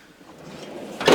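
A drawer on a technician's tool box slides open or shut in a brief, scraping rush near the end, after a moment of quiet workshop ambience.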